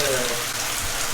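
Water pouring into a jacuzzi tub in a house in the Philippines, a dense, steady splashing rush like a small waterfall, close and loud throughout.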